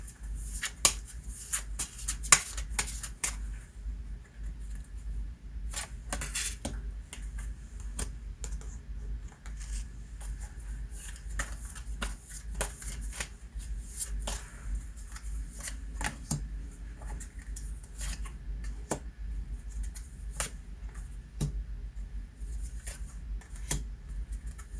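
Tarot cards are shuffled and handled close by in an irregular run of soft riffles, snaps and taps over about twenty-five seconds, with no speech.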